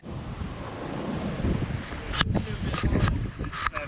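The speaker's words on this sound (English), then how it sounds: "Windy this time." Strong wind buffets the microphone in gusts at the seaside, with a low roar and a few faint voices underneath.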